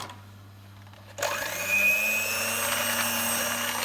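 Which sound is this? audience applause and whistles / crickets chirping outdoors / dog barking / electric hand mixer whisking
electric hand mixer whisking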